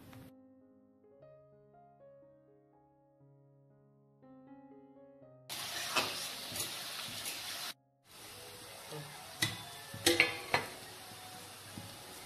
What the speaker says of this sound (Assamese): পিয়াজখিনি দি লোৱাৰ পিছত এনেকৈ কম মিডিয়াম লো ফ্লেমতে মই এনেকৈ ভাজি থাকিম